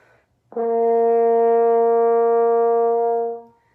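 A single sustained horn note, F, steady and full, holds for about three seconds before fading out.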